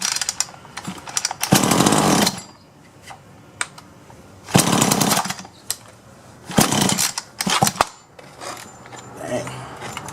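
A Solo 643IP chainsaw that will not run is being started, with repeated harsh bursts of pull-cord cranking and sputtering engine noise separated by quieter pauses.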